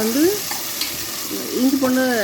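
Tomatoes with ginger and garlic sizzle steadily in a hot pan while being stirred for egg biryani, with a continuous crackling hiss up close.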